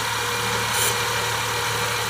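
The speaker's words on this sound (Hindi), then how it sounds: "जैसे आपको सुनाई दे रहा है इतनी नॉइज़ अभी इस कार में बाहर से आ रही है" A Tata Nexon facelift engine idles steadily, heard from outside near the bonnet, a continuous close rumble with no other sounds.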